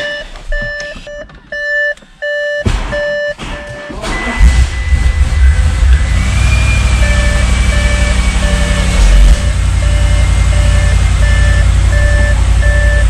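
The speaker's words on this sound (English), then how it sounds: "Let's see if the car starts now." Audi RS6 with booster packs connected cranks and fires up, the engine roaring loud and close and settling into a steady idle while warning beeps chime repeatedly in the background.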